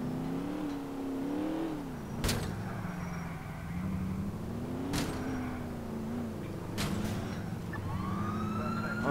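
A police car siren in the GTA IV video game, a wailing tone rising and falling slowly and somewhat quiet, under a car engine with sharp bangs at intervals.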